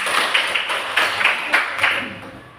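Classroom clapping from students, a handful of sharp, evenly spaced claps in a quick rhythmic pattern, close and fairly loud with no talk over it.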